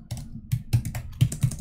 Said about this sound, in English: while I'm typing this